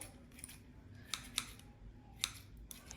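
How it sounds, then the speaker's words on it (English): Scissors snip through amaryllis bulb roots in a few quick, faint, separate clicks, with brief pauses between cuts in a quiet room. "I'm just going to trim it down a little bit, like so."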